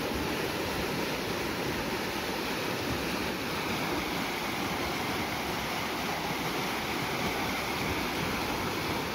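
Floodwater from higher ground rushing after a brief heavy rainstorm, a loud, continuous broadband roar of surging water that stays steady throughout.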